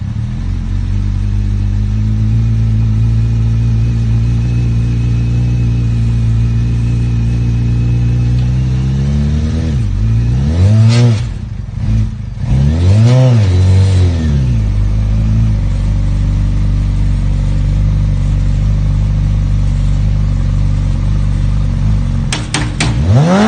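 Homemade crosskart mini buggy with a full suspension chassis and a powerful engine, idling steadily and then revving hard in repeated rising-and-falling bursts while driving a short distance, loud and close throughout.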